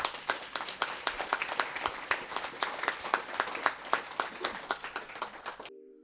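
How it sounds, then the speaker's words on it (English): An audience at a startup showcase event gives a round of applause for pitching startups: dense, close clapping that runs steadily for several seconds, then cuts off abruptly. "Please give a big round of applause to all the startups who took on the stage."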